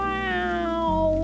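A small, wet, sad-faced cat gives one drawn-out, plaintive meow whose pitch slides slowly downward, close and clear with no other sounds.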